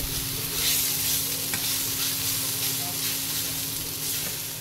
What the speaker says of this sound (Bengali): এবার চাউমিনটা ভাজা হয়ে যাবে